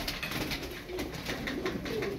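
Tumbler pigeons from a flock of about fifty coo softly in a brief, low, murmuring stretch, with no one talking.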